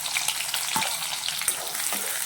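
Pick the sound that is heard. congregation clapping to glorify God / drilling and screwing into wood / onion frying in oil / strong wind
onion frying in oil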